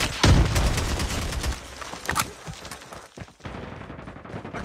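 Rapid gunfire from Call of Duty Mobile, with a dense opening burst of loud shots followed by continued crackling fire and scattered impacts throughout.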